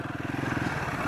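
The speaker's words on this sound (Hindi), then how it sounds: "बाइक को लगा देता हूँ छाँव में।" A Royal Enfield Himalayan 450 motorcycle idles nearby while being parked in the shade, a steady low thumping engine pulse with a faint mechanical clatter and scrape, no one speaking.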